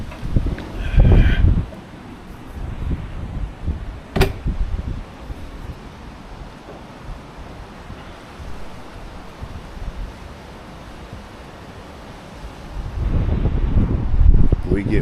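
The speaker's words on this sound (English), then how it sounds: "it's just been howling like this all night long" Strong wind roars and gusts outside an RV in Southern California, surging loudly at the start and end with a steady rushing between.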